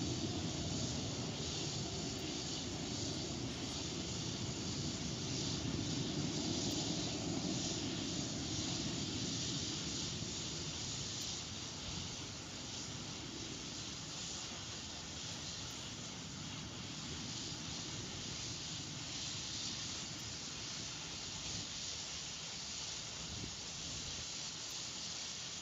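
An Astra Space rocket launches with a loud, steady broadband roar that holds throughout without a break or any voices.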